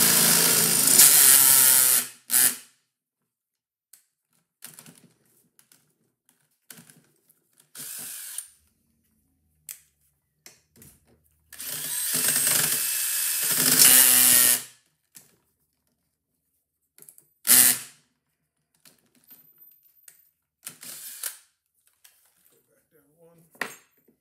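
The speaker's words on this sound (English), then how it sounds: "It's better to get the drill running." Power drill running in short bursts while removing a frozen babbitt bearing from an Edison Triumph phonograph, with loud whirring spells separated by quiet gaps and light clinks of metal.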